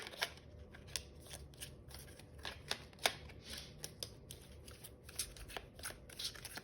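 Tarot cards being shuffled in quick, irregular riffles and snaps, close and fairly quiet, with sharp flicks scattered over a soft rustling bed.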